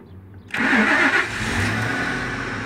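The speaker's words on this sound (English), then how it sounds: "I'm going to go ahead and start the engine." Lincoln Navigator with an internal fuel pump relay bypass cranks and fires up suddenly, revving briefly before settling into a steady close idle.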